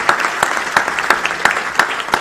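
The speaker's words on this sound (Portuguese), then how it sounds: "uma salva de palmas em nome do William a todos aqueles que participaram aqui desse processo." Rhythmic applause at a political plan launch event, loud and close, with strong evenly spaced claps repeating about three times a second over a steady bed of clapping.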